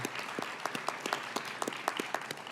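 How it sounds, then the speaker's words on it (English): Audience applause at an evening talk series event, a steady patter of many hands clapping, moderately loud and continuous with no voices over it. "So let's all do a quick round of applause for Barbara."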